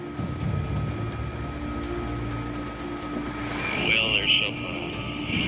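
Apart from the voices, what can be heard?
Coast Guard helicopter in flight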